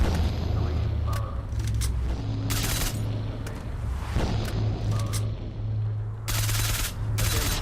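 Gunfire in STALKER: Shadow of Chernobyl aimed at a poltergeist inside a secret lab, with short bursts of loud shots over a steady low hum and a few faint electronic tones.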